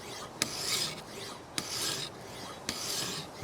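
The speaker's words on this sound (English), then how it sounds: "I'm going to pass the stone over the edge and hope to see that marker pen coming off" A sharpening stone on a KMFS Vantaedge sharpener rasps along a knife edge in three long, even strokes, each starting with a sharp tick, close and steady with no talking.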